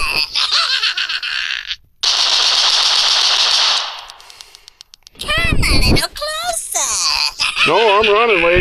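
Loud machine gun fire from a school survival video game rattles in a dense burst of rapid shots, followed by lively voices and laughter.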